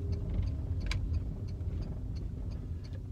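A car engine idles and rumbles steadily from inside the vehicle while parking during a driving test, low and continuous with faint ticking clicks on top.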